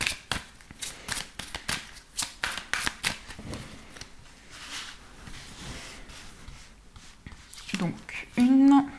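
Tarot cards being shuffled before a reading, with a series of crisp riffling bursts early on, then softer handling and a short sharp snap near the end, while someone talks.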